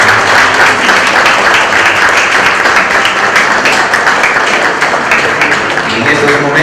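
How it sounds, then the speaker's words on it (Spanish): Loud, sustained audience applause for a quinceañera and her parents at her fifteenth birthday celebration, a dense wash of clapping that holds steady without a break and has a voice faintly mixed in beneath it. "Más fuerte ese aplauso."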